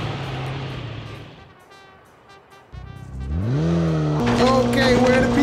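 A Batmobile-style ORV in Call of Duty Mobile, its engine humming, then revving upward in rising pitch as it accelerates, loud and close with game effects layered over it.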